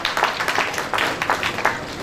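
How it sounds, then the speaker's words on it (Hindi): Brief burst of audience clapping honoring a poet at a Hindi literary gathering, dense and steady hand claps at moderate volume across the short span. "जोरदार तालियां बजाई जाएं"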